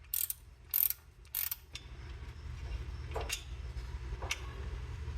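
Ratchet with a 13mm short socket working an alternator bolt on a 1994 Chevy K1500, with a few quick bursts of clicking ratcheting up close, then quieter tool clicks and handling over low background rumble.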